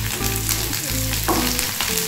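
Cauliflower frying in hot mustard oil, a loud close sizzle with occasional stirring scrapes and bubbling pops, no talking.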